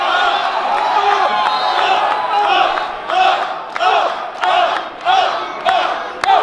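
A wrestling crowd yells and cheers in support of the team of Casey Williams and Big T. A loud continuous roar at first breaks into rhythmic chanted bursts, with a commentator talking over it.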